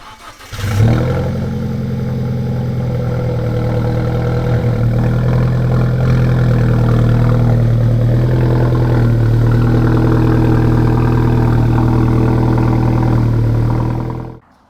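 Alfa Romeo 4C Spider with a stage 1 tune, 280 horsepower, starting up and then idling with a loud, steady low rumble that holds for about thirteen seconds before cutting off, close to the car with no talk.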